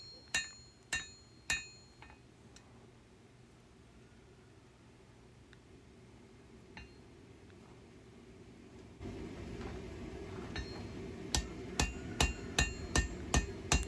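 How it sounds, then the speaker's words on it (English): Hand forging a knife with a 4-pound hammer: sharp metallic blows ring out in short bursts, three at the start and a quicker run near the end, over a steady roaring hiss that swells partway through. "this 4-pound hammer makes quick work of hand forging"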